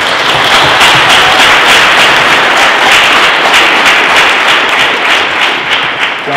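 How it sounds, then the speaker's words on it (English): A studio audience at a live talk show bursts into loud, dense applause that fills the room without a break, with faint cheers inside the clapping. "Everybody, give him a round of applause."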